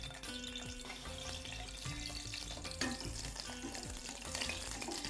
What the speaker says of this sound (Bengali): শুকনো মরিচ ছেড়ে দিলাম।